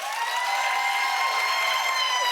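Studio audience clapping to vote for a contestant on a talk show: a brief, even burst of steady applause with faint cheering, moderately loud and unbroken.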